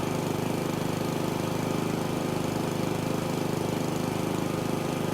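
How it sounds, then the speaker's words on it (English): A lawnmower runs steadily in House Flipper 2, a continuous droning engine with a fast, even pulse held at constant loudness throughout. "Okay, so now we can get the lawnmower."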